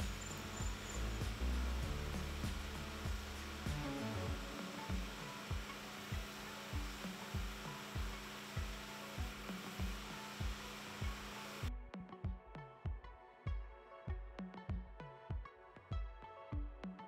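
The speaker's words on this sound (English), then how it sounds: "We will start by pressure washing and scraping all this stuff off the bottom" A pressure washer blasts growth off a boat's bottom, a steady loud hiss of spray with a rhythmic series of thumps running through it, the spray cutting off near the end while the thumping continues.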